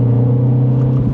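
A 2026 Mini JCW 2 Door with a dual-clutch gearbox drives in the JCW setting, heard from inside the cabin as a steady, loud low engine drone that stays smooth and even.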